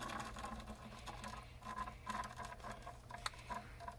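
Sodium percarbonate dissolving in hydrogen peroxide solution, giving off oxygen as a faint, steady fizzing crackle of tiny popping bubbles, heard close and continuous with irregular small ticks.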